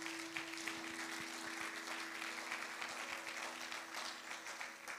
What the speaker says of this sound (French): Acclame pour Jésus, bien-aimé.